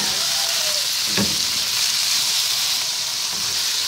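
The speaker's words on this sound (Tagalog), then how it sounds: "Medyo igisa natin ng konti." Laing with pork and shrimp-paste bagoong alamang sautéing in a pan, giving a steady close sizzle with a brief stirring scrape near the middle, no voices.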